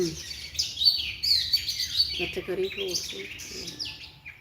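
Bright bird chirps and tweets trill on and off throughout at Alakode in Kannur, Kerala, with a person talking quietly underneath partway through.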